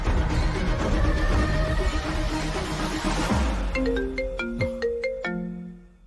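A phone ringtone plays for an incoming call, a melodic electronic tune emerging over background noise and growing clearer as repeated tones chime in a steady pattern.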